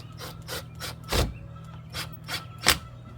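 Lock nut being tightened by hand tool on a bimini boat top mount, giving a series of short rasping, ratcheting strokes in an uneven rhythm, close and moderately loud with no talk.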